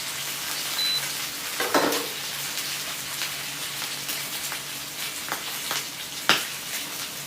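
Sous vide pork belly searing in a hot pan, a steady close crackling sizzle of rendering fat with a few sharper pops and scrapes, no voices.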